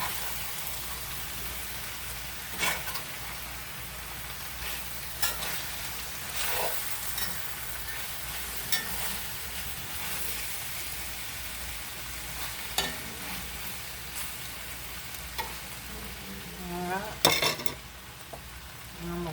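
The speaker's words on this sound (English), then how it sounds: "I'm just going to come and toss everything, flip it, just kind of stir it around so everything's getting cooked evenly." Hamburger meat and potatoes sizzle steadily in a skillet while being stirred and flipped, with occasional louder scrapes and clinks of the utensil against the pan over a constant frying hiss.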